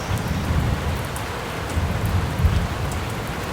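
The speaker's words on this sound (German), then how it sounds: "Und deshalb können wir hier nicht warten, bis es aufhört zu regnen." Steady rain pours down close by during a motorcycle trip, a dense, even patter with a low rumble underneath and no voices.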